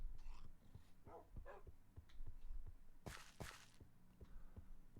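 A tamed wolf in Minecraft makes soft dog sounds, with faint low barks and scattered thuds heard up close against a quiet game background.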